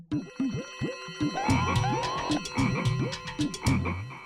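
Repeated frog croaks in a steady rhythmic chorus, close and fairly quiet, with overlapping calls building in the middle.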